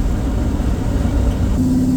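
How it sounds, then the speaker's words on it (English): A racecar fitted with a manual transmission runs with a loud, steady engine drone throughout, a sustained tone rising in pitch near the end as it revs toward a gear change. "I gotta get used to just hammering these gears"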